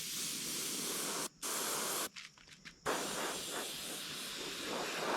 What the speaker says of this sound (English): spray a little green.